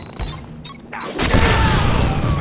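A grenade goes off in the hand in the Deadpool video game, a sudden heavy boom at about one second. Crashing debris and a sustained rumbling roar follow.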